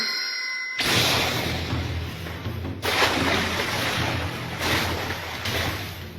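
Someone swimming through water, a steady rushing splash and churn with several louder surges of sloshing, close and continuous, with no voices.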